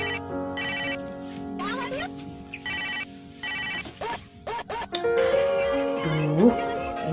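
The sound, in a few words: mobile phone ringtone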